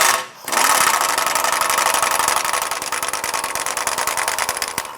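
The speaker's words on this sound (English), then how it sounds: "It has a 13mm bolt right between the oil pan and the exhaust. Let's go ahead and loosen that." A wrench works a 13mm bolt on the engine brace between the oil pan and exhaust of a 1994–2004 Chevrolet S10, a rapid loud buzzing ratchet-like clatter starting after a brief gap and continuing steadily.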